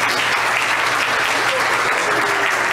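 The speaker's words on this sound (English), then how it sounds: "So applaud." A church congregation applauds at a child dedication and baptism service, broad steady clapping filling the room evenly from start to finish with no voices over it.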